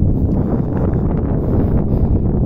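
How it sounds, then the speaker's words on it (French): Strong wind near the sea roars steadily and loudly, a constant low buffeting rush that batters the microphone throughout with no other distinct sounds. "j'espère que ça va se calmer le vent"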